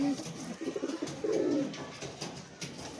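A small Madras pigeon coos close by in a few soft, low, rolling phrases, with a person talking intermittently nearby.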